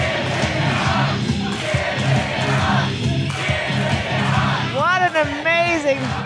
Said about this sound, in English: The crowd is going crazy here.